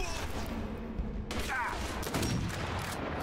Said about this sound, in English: Hey, that was a shot.